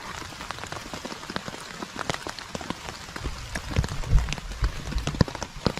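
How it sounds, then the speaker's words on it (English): Steady rain patters on surfaces nearby on a mountain hiking trail, the Old Loggers Path, with sharp drips and splashes scattered throughout and a slightly heavier patch toward the end. "Still raining."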